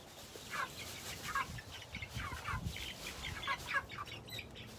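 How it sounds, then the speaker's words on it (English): A hen in a chicken coop bedded with sand, shavings or hay clucks repeatedly in short, uneven bursts at close range, with a soft background hiss throughout. "she's clucking up a storm there"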